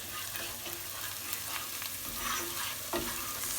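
Onions frying in a pan for Greek meatballs in sauce, a steady close sizzle with stirring scrapes and a few sharper clicks, continuous throughout with no talking.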